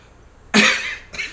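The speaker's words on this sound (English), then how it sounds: "Sorry, a little cough." A single close cough, sharp and loud, followed by a shorter second cough after a brief pause.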